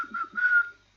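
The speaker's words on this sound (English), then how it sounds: "I can whistle. I'm going to try now." A person whistles a short, clear tune of a few quick notes followed by one longer held tone, close and alone, lasting about a second.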